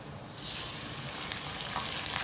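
Chillies frying in hot oil in a pan, soon joined by fish roe, in a village kitchen: a steady, close sizzle that swells after a brief quiet start and holds evenly, with faint stirring clicks.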